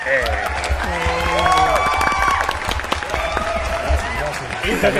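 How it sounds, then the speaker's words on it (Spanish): An audience at a cultural event in Tabasco claps to welcome the guests, a steady wash of applause with cheering and voices mixed through it. "le vamos a dar una bienvenida a todos con un aplauso"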